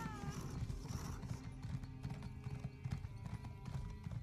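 A horse's hooves clip-clop at a steady walking pace in the video game Elder Scrolls Online, a close rhythmic clatter with a brief whinny near the start and faint game ambience beneath.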